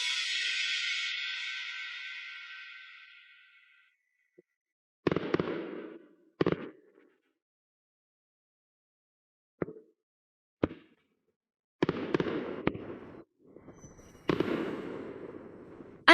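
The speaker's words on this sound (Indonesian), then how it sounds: "Setelah melihat kembang api ini, aku harus pergi." Fireworks at a New Year celebration go off as a fading whistle, then scattered sharp bangs and crackling bursts at uneven intervals, some single and some in quick clusters, each ringing out briefly in the open air.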